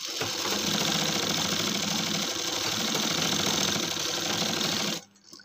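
A sewing machine stitching the armhole of a shirt runs in one continuous, close, loud whirring burst for about five seconds, then stops, leaving only faint room noise.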